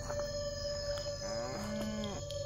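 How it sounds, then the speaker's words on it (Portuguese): Cattle moo at night, a single drawn-out low bellow with a rising and falling pitch that stands out over a steady tonal background hum. The sound comes from a modest distance and no one speaks. "a gente tá escutando barulho de um boi"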